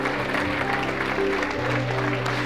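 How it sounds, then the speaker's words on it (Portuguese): Applause from a church congregation during a Sunday morning service, a dense steady patter of many hands clapping at once with music playing underneath throughout. "Dá um aplauso forte ao Rei da Glória"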